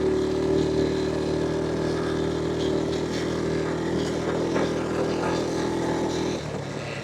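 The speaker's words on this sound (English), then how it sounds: "I'm full throttle. Second gear, that's all she's got." A Honda ATV engine runs at full throttle in second gear uphill, maxed out and not accelerating, a steady droning whine held at one pitch, close and continuous before dropping slightly near the end.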